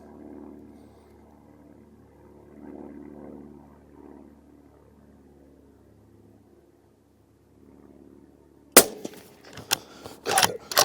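A single sharp, loud rifle report from an ATA Turqua thumbhole laminate rifle fired at a 100-yard target cracks out after a long stretch of quiet outdoor ambience. Several fainter knocks and echoes follow.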